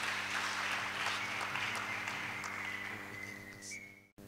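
A church congregation gives a warm round of applause, steady dense clapping for about four seconds before a sudden cut, with faint voices underneath.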